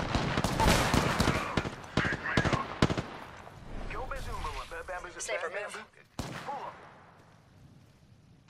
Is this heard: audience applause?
no